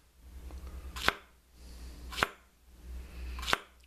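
Plantains for tostones are cut with a knife on a board, giving three sharp, evenly spaced chops about a second apart, close and clear over quiet room noise, with no speech.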